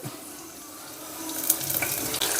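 Garlic and curry leaves fry in hot oil in a home kitchen pan, giving a steady close sizzle with a brief louder crackle as more goes in, no voices.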